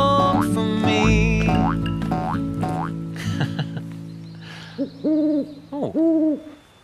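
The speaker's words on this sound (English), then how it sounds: "Oh, wow, it's a mopoke owl." Hooting calls of a mopoke owl in the bush ring out in a short series of two-note hoots, mixed in with bouncy, musical cartoon-like sounds early on.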